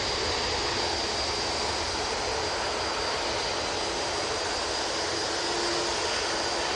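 An airliner departs Manchester Airport bound for Hamburg, a loud, steady broadband engine roar that holds evenly throughout with no voices.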